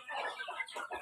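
Native village chickens cluck in a brief, faint burst of several quick overlapping clucks, heard alone without talk.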